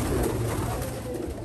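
Racing pigeons coo softly and continuously inside a loft, a close, steady murmur of calls with no voices.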